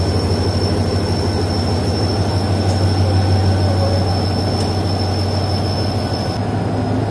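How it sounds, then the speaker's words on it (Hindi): Rehman Baba Express train pulling out of Pannakal railway station in Pakistan, a loud, continuous rumble of wheels on track with a steady high whine running over it. "तो तकरीबन 2 मिनट रुकने के बाद ट्रेन डिपार्ट कर रही है पन्नाकल रेलवे स्टेशन से।"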